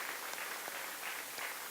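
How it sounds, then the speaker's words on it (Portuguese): A seated audience at a training certification event claps for a panelist professor being introduced, a soft, even patter of many hands throughout with no voices over it. "Salva de palmas"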